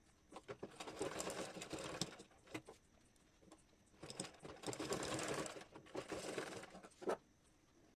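A sewing machine stitches a saree blouse puff sleeve in close, rapid rattling runs of a second or two, broken by short pauses and light handling sounds.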